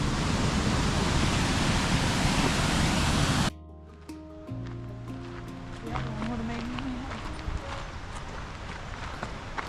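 Rushing river water at Amnicon Falls in Wisconsin, a loud, steady broadband roar for the first few seconds that then drops off sharply into a quieter background with faint scattered sounds.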